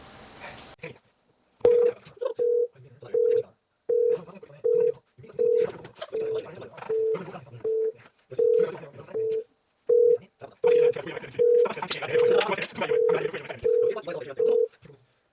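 A phone line rings out over and over in steady repeated tone bursts, with faint chatter and laughter underneath and no one picking up.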